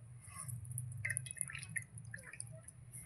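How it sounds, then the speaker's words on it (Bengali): Water is squeezed out of freshly made chhena. Faint, scattered drips and small wet squishes sound close by over a low background hum. "যতটা সম্ভব হচ্ছে জলটা বার করে নিচ্ছি"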